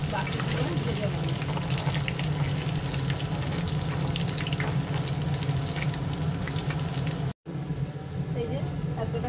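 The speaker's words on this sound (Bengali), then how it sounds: "তো এইভাবে এগুলো ভেজে নেবো" Food frying in hot oil in a wok, a steady dense sizzle running throughout, close and loud, with a brief break near the end before it resumes.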